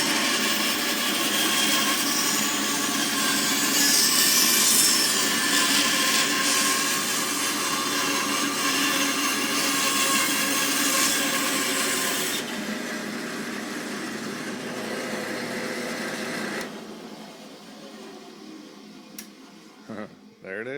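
A Craftsman bandsaw fitted with a 4 TPI blade cuts through wood, a steady loud broadband whir that runs for about twelve seconds, then drops off as the cut ends and the machine winds down to near quiet.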